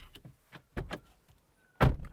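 A 2023 Renault Arkana's car door swings shut with a solid, fairly close thunk, preceded by a few lighter clicks and handle knocks.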